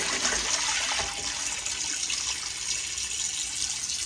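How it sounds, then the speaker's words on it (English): Water from a running kitchen tap rushes and splashes steadily as washing water is poured off a raw chicken, a continuous hiss with no pauses. "I'll pour that water off."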